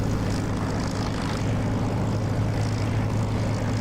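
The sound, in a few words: aircraft engine of a plane taking off in the video game DCS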